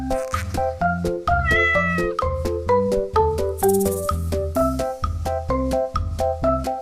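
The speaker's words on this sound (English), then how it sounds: "It's a cat." A cat meows repeatedly in quick succession, with loud, close, drawn-out calls that rise and fall in pitch, over a busy, bouncy musical backing.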